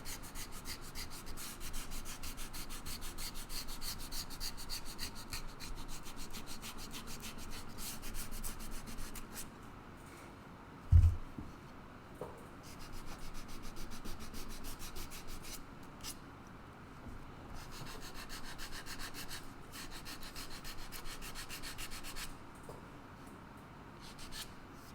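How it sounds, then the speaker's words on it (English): Hand sanding of wood while a guitar volute is carved gives a continuous soft rubbing scrape with a steady rhythm, broken once by a sharp knock near the middle before the rasping resumes. "sanding right now."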